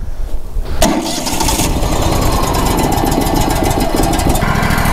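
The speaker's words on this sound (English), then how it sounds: "we're gonna have to get a little heat in the engine here first" An engine on a sawmill log job cranks and catches after a quiet moment, then runs loud and steady as it warms up, close and alone with no talk.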